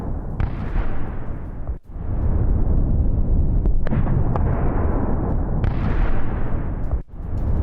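An airstrike explosion near Beirut airport gives a loud, sustained rumbling roar with bursts of cracking booms, continuing for several seconds with brief dips, no talk over it.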